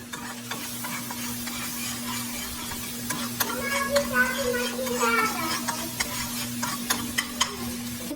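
Flour (maida) cooking in butter in a pan, a close continuous sizzle broken by frequent spoon scrapes and taps, with a steady hum underneath.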